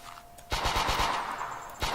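Rapid automatic gunfire from a third-person shooter game fires in a quick burst of evenly spaced shots, pauses briefly, then resumes, loud and close with no talking.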